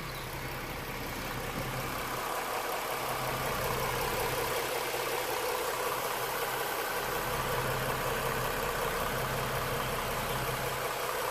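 A 2017 Ford Mustang V6 idles steadily after an engine flush, with a smooth, continuous low hum and a faint mechanical whir holding at an even level throughout, with no voices.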